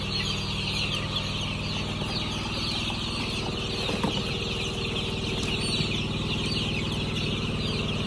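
Healthy young chicks during debeaking, chirping and cheeping continuously at close range over a steady background hum, with no talk.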